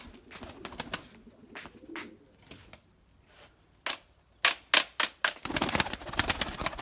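Pigeons coo inside a coop, soft low calls rising and falling, broken by a run of sharp clattering bursts, likely wingbeats or scuffling, growing louder toward the end.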